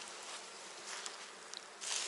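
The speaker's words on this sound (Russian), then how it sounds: "В полете, в поле много пчел работает." Honeybees buzzing steadily around a hive in spring, a dense continuous hum that swells slightly near the end, with no voices.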